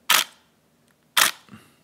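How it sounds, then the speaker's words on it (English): Two crisp shutter releases from a Nikon D800 DSLR held close to the microphone, each a sharp broadband clack followed by a softer mirror return, the second pair closer together, with quiet between. "It's got a deeper tone to the shutter and versus that camera"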